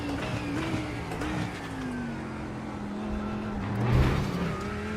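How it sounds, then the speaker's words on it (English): GT3 race car engine in a sim racing game at Sebring, a loud sustained roar rising and falling through gear changes, swelling near the end, with no speech. "I do love the way this car sounds, man."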